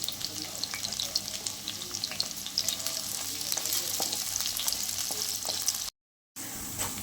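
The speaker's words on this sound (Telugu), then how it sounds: "నూనె కాగింది. ఉల్లిగడ్డ వేసేసుకుంటున్నా." Onions and curry leaves sizzle and fry in hot oil for a mutton curry, a steady crackling hiss with occasional stirring, close and continuous, briefly cutting out near the end.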